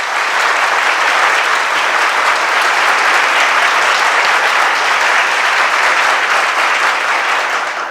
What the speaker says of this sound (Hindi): तो अपने लिए एक बार ताली बजा लो तुम लोग।